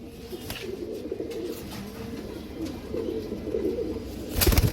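Steady low cooing from several young Amritsari pigeons, overlapping and continuous, close by, with a brief brighter rustle or flutter near the end.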